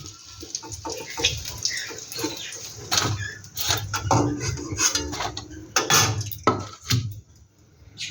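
Fried eggplant being lifted out of the pan onto a metal fish plate in a home kitchen, with a run of clinks, scrapes and clatters of utensils and dishware over a soft sizzling background.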